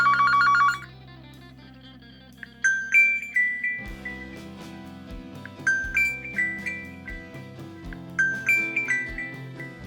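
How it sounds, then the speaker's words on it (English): A ringtone plays from the single speaker of a Huawei Nova Plus phone: a brief electronic trill, then a bright melodic tune of plucked, chiming notes with steady rhythmic bass, loud and close. "Let's play any of the ringtones and see if we can hear the sound from both the speakers, or is it just one speaker"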